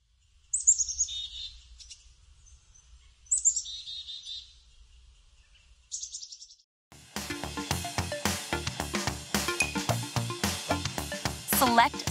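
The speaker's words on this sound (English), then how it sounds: "chickadee." A chickadee calls in short bright chirping bursts, three separate phrases separated by silence, followed by busy upbeat background music.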